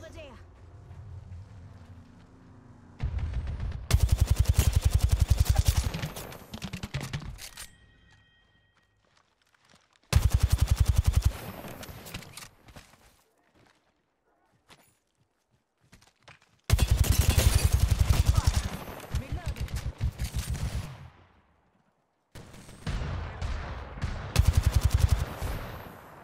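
Bursts of automatic gunfire in Apex Legends Arena, several loud rapid volleys separated by short pauses, with player voices talking between and over the shooting.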